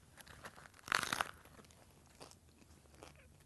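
A regular crunchy beef Taco Bell taco shell cracks in one sharp, close bite, followed by faint chewing and quiet crinkling.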